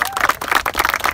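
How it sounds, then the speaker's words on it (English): Youth lacrosse players clap for themselves at a middle school tournament, a short burst of quick, uneven group clapping heard close by. "Clap it up for yourselves."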